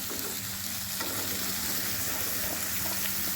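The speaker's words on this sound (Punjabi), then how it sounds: "ਹੁਣ ਅਸੀਂ ਇਹਦੇ ਵਿੱਚ ਪਾ ਰਹੇ ਹਾਂ ਮੂਲੀਆਂ ਕੱਟੀਆਂ ਹੋਈਆਂ" Cut radishes frying in a pan on a gas flame at medium heat, a steady close sizzle with light stirring and scraping throughout, no talk.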